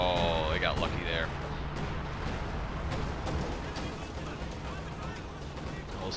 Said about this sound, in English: We have here the 105mm howitzer barrage